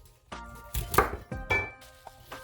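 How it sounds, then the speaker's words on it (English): Knife chopping through two small bundles of fresh kale on a cutting board, a series of close, crisp irregular cuts and thuds with no talking. "so I'm just in no particular order chopping this kale"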